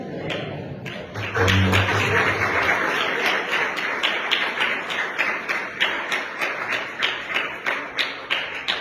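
An ISKCON audience applauds after a devotional talk by Radheshyam Prabhu. A full burst of clapping rises after a moment and keeps going, then settles into a steady, rhythmic group clap that carries on to the end.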